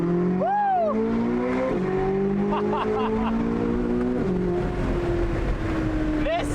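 A Corvette Z06's Valvetronic Designs titanium exhaust with OEM downpipes roars loud and close among buildings, revving and shifting through gears with a droning note, and a voice whoops briefly over it.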